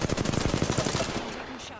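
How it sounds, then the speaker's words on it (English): Rapid automatic gunfire in the Apex Legends video game, a dense, loud rattling burst of closely spaced shots that fades out after about a second. "Shots."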